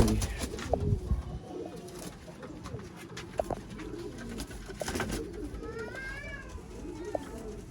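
Sialkoti breeder pigeons coo in soft, throaty, repeated phrases against a steady background rumble, with a few brief sharper calls scattered through.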